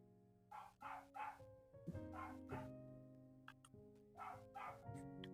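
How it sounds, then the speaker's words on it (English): A dog barks in a series of quiet bow-wow yelps with whimpering tones between them, several barks in uneven bursts, faint and alone. "This dog."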